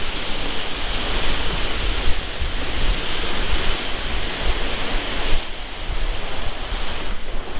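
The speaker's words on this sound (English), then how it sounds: "The water's crashing a little bit" Waves crash steadily against a seawall on the Swampscott/Lynn waterfront as Hurricane Lee passes offshore, a continuous loud roar of surf mixed with gusting wind noise, with no talking.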